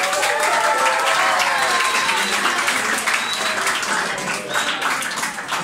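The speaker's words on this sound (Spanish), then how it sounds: "Junior, un aplauso para él." An audience applauds a favourite teacher at a school event, a dense, steady wash of many hands clapping that stays loud throughout and eases slightly toward the end.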